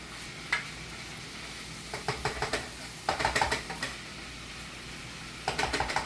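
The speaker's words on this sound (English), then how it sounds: "I'll allow it to simmer for a while because, just like I said, I still want the nutrients in it to be retained" Mixed vegetables with green bell pepper simmering in a pan give a steady low sizzle, broken by clusters of light stirring taps and scrapes, close and with no talking.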